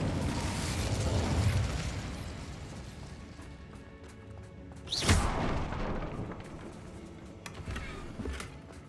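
An Incendio fire spell is cast in Hogwarts Legacy, bursting in a sharp whooshing flare amid a rumbling game soundscape, with a brief roar that fades back into low background noise.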